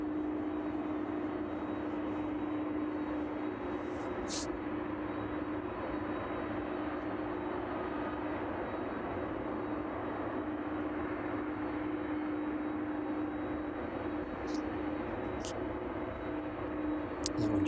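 A UPS Boeing 767 cargo jet arriving at East Midlands Airport on a chilly evening sends a distant, sustained engine roar and drone across the airfield, with a steady tonal hum and no talking.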